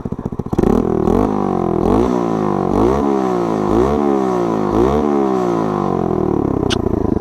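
A small motorcycle engine starts up and revs in repeated rising bursts, each climb falling back before the next, loud and close with a mechanical clatter underneath.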